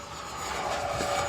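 An FMS Yak 130 70mm electric ducted-fan RC jet whooshes overhead just after takeoff, a steady loud turbine-like roar holding throughout.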